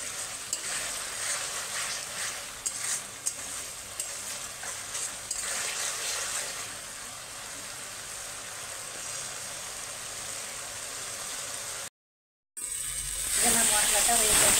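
Spice paste for a mutton curry fries in oil in a pressure cooker, giving a steady close sizzle with occasional stirring scrapes and a short break near the end, and a voice speaks over it.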